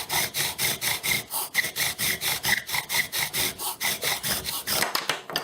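A thick wooden spindle turned by a short bow grinds against a wooden hearth board to build a coal, making steady rhythmic rasping friction strokes, each back-and-forth pass loud and close, about three per second, with no talking.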